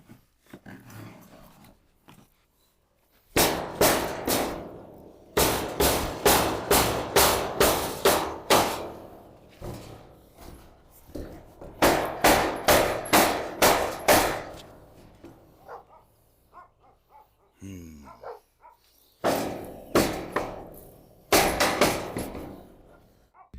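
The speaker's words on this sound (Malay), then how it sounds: "Tukul besar kita." Heavy rhythmic pounding from a big hammer in rapid bursts of blows, separated by short pauses, loud and close.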